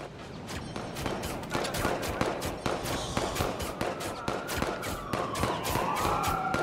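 Rapid gunfire from the video game Watch Dogs 2 rattles in dense bursts, sharp cracks close together and fairly loud, with a siren-like wail rising faintly toward the end.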